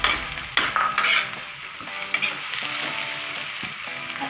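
Garlic sizzling in hot oil with plenty of onions in a pan for Indian chicken curry, steady frying hiss with a few stirring scrapes and clinks, close and continuous.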